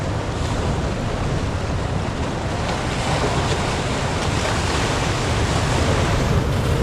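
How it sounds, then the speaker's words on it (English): Steady, loud roar of ocean surf washing over rocks on a Northern Beaches shoreline, continuous wash with wind buffeting the microphone and no voices. "I'm just trying to time when the waves come in, so I can get them on the receding end"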